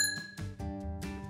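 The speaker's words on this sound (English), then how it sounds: "a bicycle bell to ring when overtaking others" A bicycle bell mounted on the handlebars of an electric trike rings in a few bright, sustained metallic dings with long ringing overtones, fairly quiet and alone.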